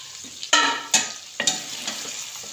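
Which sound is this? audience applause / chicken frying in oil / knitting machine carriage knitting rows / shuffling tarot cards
chicken frying in oil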